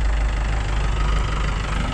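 A Mahindra 585 DI tractor engine idles, a steady, loud, low rumbling drone with a faint knocking texture, close and continuous with no talk.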